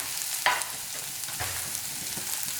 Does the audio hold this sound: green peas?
yes